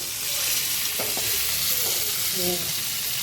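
Fresh bombil (Bombay duck) fries Konkan style in a pan over a gas flame, giving a steady close hiss of oil with occasional stirring scrapes.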